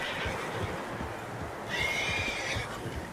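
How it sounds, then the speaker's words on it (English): Several horses neigh and whinny in the Red Dead Redemption 2 video game, with a louder whinny rising partway through over a steady outdoor ambience and soft clip-clop of hooves; no talking. "Horses, quite a few of them."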